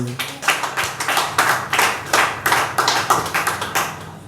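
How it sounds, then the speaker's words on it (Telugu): An audience at a sermon claps in a steady, even rhythm, roughly two sharp claps per second sustained for several seconds, close and fairly loud, with no talking. "చప్పట్లు కొట్టరే"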